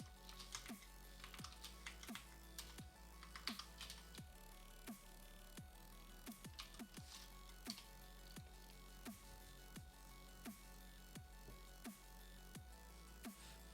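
Steady computer keyboard typing during a live Rust coding session, with crisp, close keystrokes in an uneven run throughout, over a low background hum and no talking.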